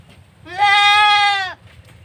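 A goat about to be bathed gives a single clear, close bleat lasting about a second, wavering and nasal, against a quiet background.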